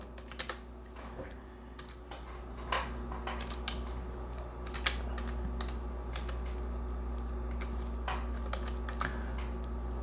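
Someone types an address on a computer keyboard, giving irregular bursts of close, crisp key clicks and occasional louder taps against a low steady hum.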